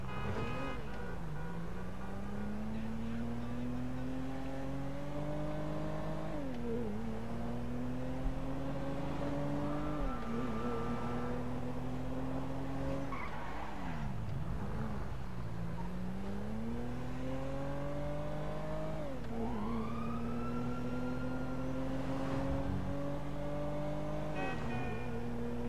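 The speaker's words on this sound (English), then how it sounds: "You know, for a Toyota, it has a nice sound." A Toyota car engine in GTA 5 revs repeatedly, its pitch rising and falling through gear changes in a steady, loud, continuous drone, with a brief tire skid squeal near the end.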